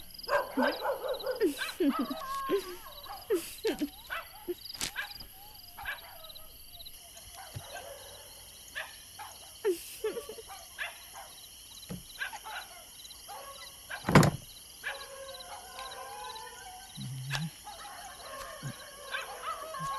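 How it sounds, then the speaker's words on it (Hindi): Dogs bark intermittently outdoors at night in sharp, scattered bursts, some near and some farther off, mixed with whimpers and yips, while people talk at times and a steady high insect-like drone runs underneath. "ये कुत्ते क्यों इतना भौंक रहे हैं?"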